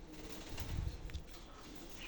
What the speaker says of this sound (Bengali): দুইটা মেল পাখি আছে, ককাটেল